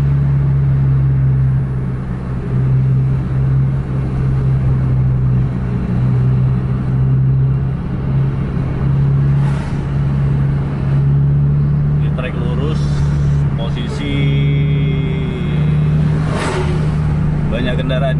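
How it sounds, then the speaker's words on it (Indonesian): A long-distance bus races along a road in Indonesia as oncoming vehicles pass, its steady engine drone and road rumble holding loud throughout, with brief whooshes of passing traffic. "Banyak kendaraan dari arah berlawanan."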